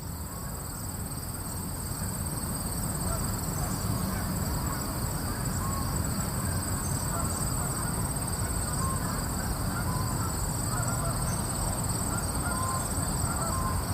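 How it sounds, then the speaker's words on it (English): Crickets trilling in a meadow on a late summer evening at a semi-rural park, a dense, steady high-pitched chorus with continuous insect buzz and faint distant rumble, unbroken throughout with no talking. "Here is the sound of a late summer evening in the meadow at Hudson Crossing Park."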